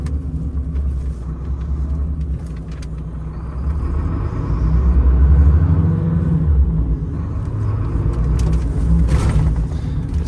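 Low rumble from a 2023 MAN truck rolling at low speed, a steady engine drone that swells midway and then eases, heard from inside the vehicle with no speech.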